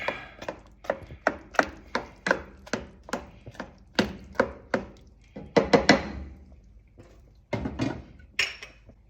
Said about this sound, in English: Just going to give it a stir here. Kind of break apart some of these tomatoes a little bit.